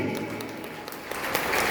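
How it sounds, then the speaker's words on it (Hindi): Audience clapping at a devotional anniversary festival, a steady patter of hands from a crowd filling the whole short moment at moderate loudness, with no voices over it. "एक बार ताली।"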